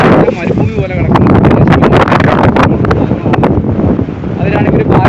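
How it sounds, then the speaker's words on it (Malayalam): Strong wind buffets the microphone outdoors in open village country beside a barren stretch of dry trees, a steady loud rumble with gusting bursts running throughout the clip. "നല്ല കാറ്റാണ്, കാറ്റുണ്ട്"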